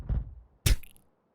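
Blocks of landfill dropping into place in a video game, two dull thumping impacts, the second sharper with a brief crackling burst, alone and fairly close.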